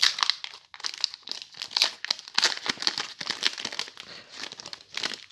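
Pokemon TCG booster pack wrapper being torn and crinkled open, close and continuous foil crackling with sharp tearing bursts.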